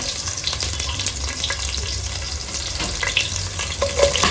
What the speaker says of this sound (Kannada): ಒಂದು ಈರುಳ್ಳಿನ ಕಟ್ ಮಾಡಿ ಸೇರಿಸ್ಕೊಳ್ಳೋಣ